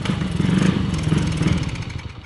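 Honda Today motorcycle engine cranking and starting, a steady low chugging idle with rhythmic mechanical clatter, close and fairly loud, no voices over it.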